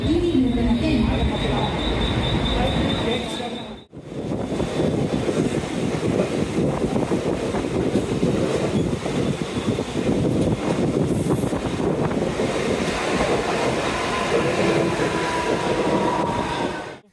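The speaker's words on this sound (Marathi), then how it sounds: "मी आता परेलवरून ट्रेन पकडतो, 1 मिनिटात येते." Mumbai suburban train from Parel station rumbling and rattling steadily for the whole stretch, loud and close from inside the carriage, with wind buffeting the microphone and a brief dip near the start.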